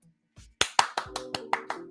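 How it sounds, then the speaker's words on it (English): A single person claps about seven times in a steady rhythm. The sharp slaps sound close and distinct against near silence, with a soft tap just before them. "I give it a round of applause"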